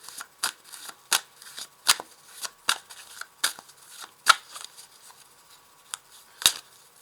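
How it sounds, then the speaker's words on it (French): Tarot cards slap and snap softly as they are shuffled and drawn onto a table, producing a rapid, irregular series of close, crisp flicks and taps with no talking. "Alors je vais rajouter une dernière carte sur ça"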